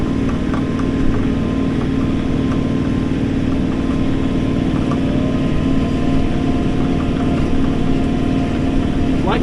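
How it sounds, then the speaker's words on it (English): A tractor engine runs steadily in low gear while pulling a seeder for brome grass, a constant loud mechanical drone with a low hum that holds through the whole stretch, close and unbroken. "I'm in low gear on the tractor."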